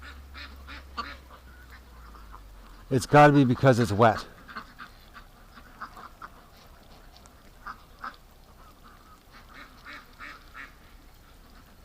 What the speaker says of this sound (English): that's the first time I've seen the hospital ducks on the grass